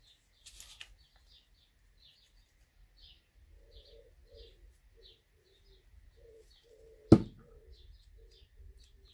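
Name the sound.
turtle dove cooing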